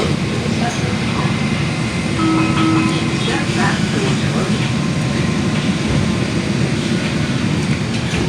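Steady low rumble of a Washington Metro Silver Line train interior in motion, with rolling wheel noise, faint squeals and muffled voices in the carriage.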